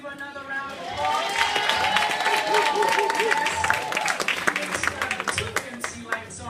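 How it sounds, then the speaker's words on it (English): Audience applause and cheering at a hip-hop event honoring an artist, rising from a sung or held voice into mixed clapping and crowd noise that carries on with scattered sharp claps. "Can we give her another round of applause?"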